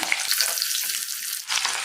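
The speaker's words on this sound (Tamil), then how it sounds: "பூண்டு ஓரளவுக்கு பொரியட்டும்" Steady, loud sizzling of chopped garlic frying in hot oil, a continuous close crackle with a brief dip near the end.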